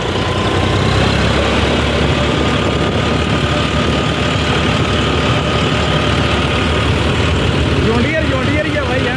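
A small four-wheel-drive John Deere tractor engine running in top gear on a test drive, a loud continuous close diesel drone with steady rumble throughout and wind-like noise.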